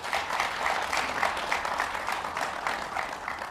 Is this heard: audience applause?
yes